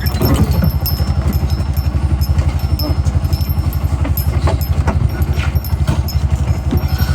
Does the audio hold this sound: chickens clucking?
no